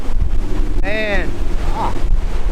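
Wind buffets a bass fishing boat on open water, loud rumbling gusts battering the microphone, with a brief whistling tone and a short voice partway through.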